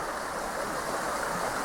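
A river flows through a wooded estate, producing a constant, even rushing and babbling of moving water nearby, with no talking over it.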